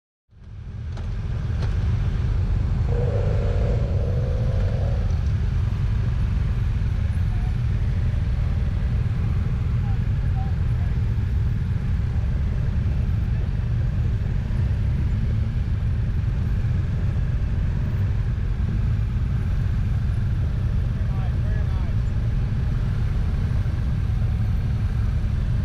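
A BMW motorcycle rides slowly through a cone course at a rider academy, its engine a steady, continuous low drone at moderate distance that stays even throughout, with no voices.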